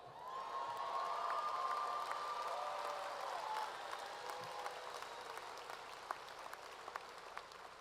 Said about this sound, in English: Unless you want to clap for them one more time.